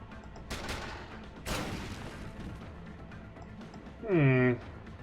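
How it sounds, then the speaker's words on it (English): Two sharp gunshot bursts from the video game Steamworld Heist crack out about a second apart, then after a pause a brighter ringing, tonal shot or ricochet effect sounds near the end, all over a low game background. "So where'd that second shot come from?"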